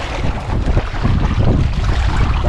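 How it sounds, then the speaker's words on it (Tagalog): Strong wind roars and buffets the microphone at sea, with a dense, rushing noise that barely lets up. "ang hangin lang ang malakas"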